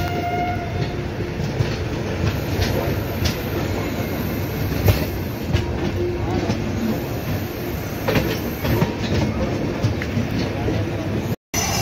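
Mizoram Express train running on tracks near Kolkata after rain, a loud continuous rumble of wheels and carriages with faint rhythmic clacks, heard close from on board under a steady roar.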